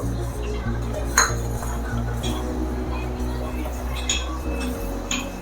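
A spoon clinks and taps against a pot in a steady rhythm as sugar is stirred into mango kheer, heard alongside a constant low hum.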